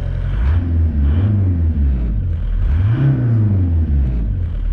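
A diesel-swapped VW Jetta mk2 TDI engine with a boost gauge fitted revs up twice, a loud, close rumble rising and falling in pitch with each blip of the throttle.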